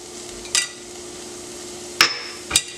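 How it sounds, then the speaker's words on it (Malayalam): A pan of onion with ginger garlic paste frying over low heat: a faint constant sizzle broken by three sharp knocks of a spoon or spatula against the pan. "നമുക്ക് ഇതിൻ്റെ റോസ്മെല്ല് പോണവരെ നമുക്കൊന്ന് വഴറ്റി കൊടുക്കാം."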